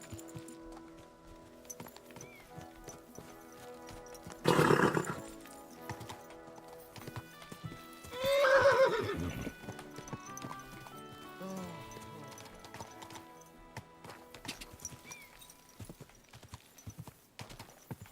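Hooves clip-clop steadily throughout in the video game Kingdom Come: Deliverance II, with two loud horse neighs, one near the middle and another shortly after, over a faint background.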